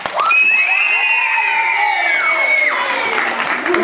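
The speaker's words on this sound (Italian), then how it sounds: "Un bel applauso al pubblico." Audience applause and cheering after a primary school children's performance, a loud crowd of clapping mixed with high children's shouts and whoops that gradually settle.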